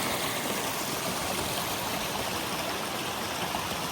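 A creek rushes and burbles steadily near Cutler Falls, North Carolina, a constant, full flowing sound without pause.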